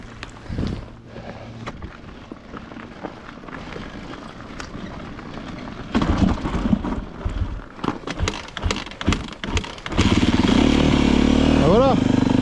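A motorcycle is push-started with the choke on, its engine catching and firing up loudly after some rolling and shuffling noise, then settling into a steady idle near the listener.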